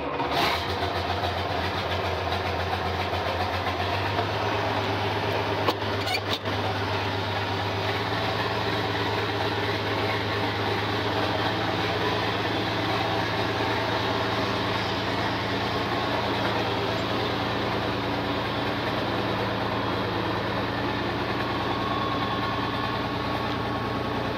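International Harvester tractor with a torque amplifier runs steadily as it drives laps around a driveway, a constant low engine drone close by, with a brief clunk of a gear shift early on and no talk.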